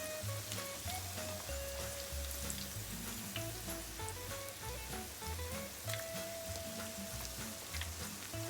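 Oil sizzles and crackles steadily as latkes fry in a pan, a dense continuous popping texture with no talking.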